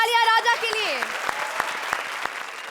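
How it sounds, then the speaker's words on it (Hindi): A studio audience at a TV comedy show breaks into applause after a brief voice, settling into scattered, sharp hand claps that ring out one by one. "जोरदार तालियां राजा के लिए।"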